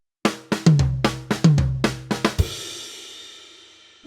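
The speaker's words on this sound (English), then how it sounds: "The 3-3-2 is a classic phrase for drum fills." A 3-3-2 drum fill on a kit, played as quick groups of three, three and two strokes that include deeper tom hits. It ends on a crash cymbal whose wash rings out and fades, with no voices.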